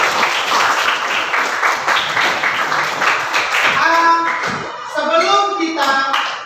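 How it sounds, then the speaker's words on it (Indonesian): Classroom hands clapping loudly in a quick, fairly rhythmic group pattern, with children's voices rising over the clapping in the second half. "kasih tepuk tangan dulu untuk kita semuanya"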